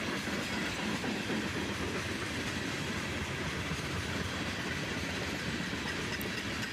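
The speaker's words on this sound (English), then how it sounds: "an AC44 CW leads, followed by an old SD40-2" A CSX freight train led by an AC44CW and an old SD40-2 rumbles past steadily, a dense continuous roar with faint rhythmic rail clatter throughout.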